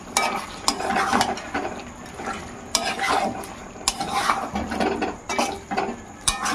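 Thin potato slices and chicken skin sizzle steadily in a pan while a utensil stirs and scrapes, giving repeated metallic clinks and knocks over a continuous loud frying hiss.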